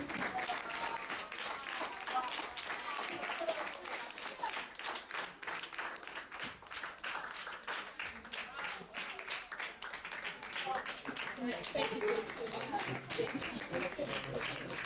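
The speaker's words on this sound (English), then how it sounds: "Keep clapping, keep clapping." An audience claps steadily and continuously, a dense patter of many hands, while a voice speaks over the applause.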